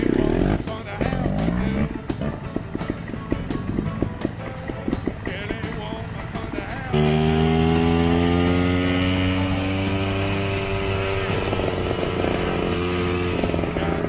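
Trial motorcycles on a Moroccan mountain trail rev up and ride off, engine note rising in loud, sustained harmonic sweeps after a stretch of rougher idling and clatter, with voices briefly heard at the start.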